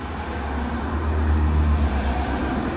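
A car engine fitted with a wideband air-fuel ratio gauge is running, a loud, steady low hum with a slight swell in the middle, heard close up and without any talking.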